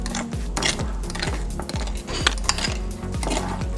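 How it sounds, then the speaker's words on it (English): Avocado dip ingredients with cilantro being mixed in a bowl, a close, regular series of spoon clinks and scrapes against the bowl at a steady stirring rhythm. "Now mix all the ingredients."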